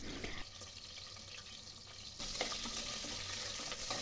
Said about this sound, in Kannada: ಎರಡು ಈರುಳ್ಳಿಯನ್ನು ಸ್ಲೈಸ್ ರೀತಿ ಕಟ್ ಮಾಡಿಕೊಂಡು ಅದನ್ನು ಸಹ ಸೇರಿಸ್ಕೊಂಡು ಚೆನ್ನಾಗಿ ಫ್ರೈ ಮಾಡ್ಕೋತಾ ಇದ್ದೀನಿ